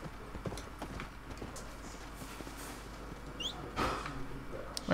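Horse hooves clip-clop in Red Dead Redemption, a faint, uneven run of hoofbeats with a few scattered game sounds and no one talking.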